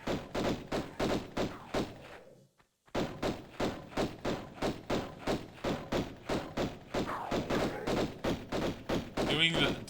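Lara Croft's dual pistols in Tomb Raider fire as a steady, evenly spaced run of sharp thuds, alternating rather than together, with a brief silent gap near the start before the rapid shooting resumes.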